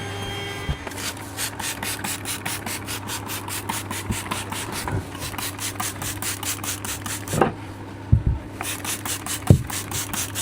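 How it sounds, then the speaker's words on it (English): Hand sanding of router-cut edges on a wooden end grain cutting board with 180 grit paper: steady rhythmic back-and-forth rasping strokes, close and even, with a few sharper knocks near the end. "Then I round all of the router cuts with 180 grit by hand"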